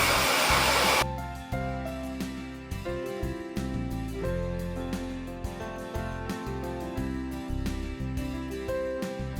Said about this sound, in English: So I'll be using the GHD air blow dryer